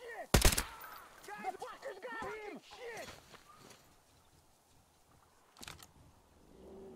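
Gunfire from a weapon in the shooter video game Metro Exodus: a loud close burst at the start, a few scattered shots and clatter, then another sharp report near the end, with a voice talking between shots.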